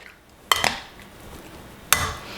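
Cubed beef is stirred with marinade in a bowl, and a utensil gives two sharp clinks against the dish, about a second and a half apart, over quiet wet mixing.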